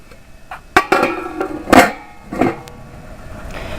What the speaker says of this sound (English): Put the lid on it.